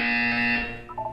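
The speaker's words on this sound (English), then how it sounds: "When you hear the buzzer, look down at the floor." In the video game Portal 2, a steady, harsh electronic buzzer drones for about half a second, then fades into a few faint higher tones.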